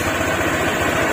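A Honda Click scooter fitted with an aftermarket high-flow air filter idles steadily and close, a dense, rapid low pulsing throughout the short moment.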